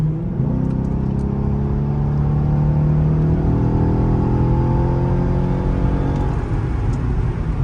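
A Genesis Sedan 4.6 V8 with a throttle controller accelerates steadily through its gears, the engine drone rising and falling in pitch at each shift, heard from inside the car against a constant road rumble, with no speech.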